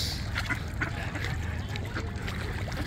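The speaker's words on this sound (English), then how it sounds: "Duck feeding has begun. We got dabbling ducks." Dabbling ducks, some of them hybrids, feed on scattered bird seed at the water's edge, giving a steady bed of soft splashing, dribbling and low quacks close by, with a constant low rumble underneath.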